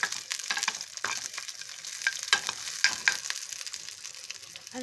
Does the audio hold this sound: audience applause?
no